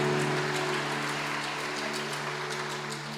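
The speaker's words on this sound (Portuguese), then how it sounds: "Você pode aplaudir o Senhor mais uma vez por esse texto?" A church congregation claps steadily together during a service, a dense, continuous wash of applause over a sustained musical hum.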